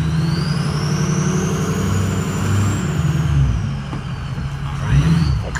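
A 2004 Ford F-350 Lariat 4WD with the 6.0L Powerstroke diesel runs steadily nearby, a loud continuous engine rumble with a faint whine that rises and falls as the wheel is turned lock to lock.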